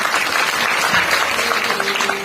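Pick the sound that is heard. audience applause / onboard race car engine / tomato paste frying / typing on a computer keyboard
audience applause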